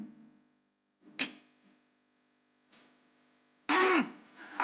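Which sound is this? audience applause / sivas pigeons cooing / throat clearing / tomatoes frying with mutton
throat clearing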